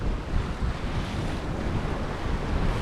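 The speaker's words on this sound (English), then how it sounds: "It's quite a bit of wind." Strong wind roars continuously over the microphone aboard a West Sail 32 sailboat at sea off Australia's east coast, blending with the wash of waves in a loud, unbroken rush.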